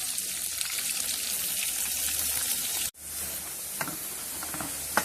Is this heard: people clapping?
no